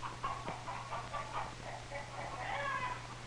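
A kitten gives a series of thin, high meows, close by and fairly quiet, over a faint steady hum.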